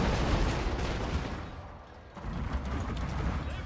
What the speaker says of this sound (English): I have my commandos sitting here and taking shots at these exposed cavalry units